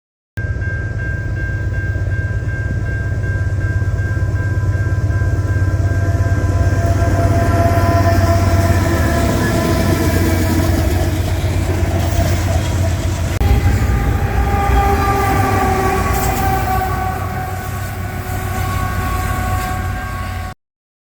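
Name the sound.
southbound intermodal freight train passing train yard at night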